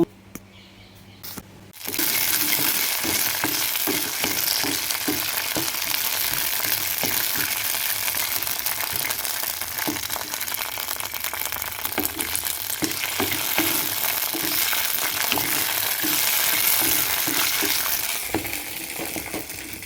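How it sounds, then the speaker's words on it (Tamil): Banana leaf halwa is stirred in a frying pan, a loud, steady sizzle with rhythmic scraping strokes of the spoon that continue for most of the clip after a short quiet start. "இதில் சேர்த்துக்கிட்டு நம்ம கிண்ட ஆரம்பிக்கணும்"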